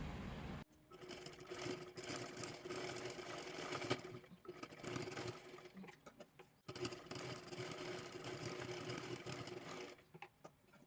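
A sewing machine runs in steady bursts while putting a double line of stitches along the sides of a blouse for a square-neck kathpadar saree, the loud motor whir broken by short pauses between runs.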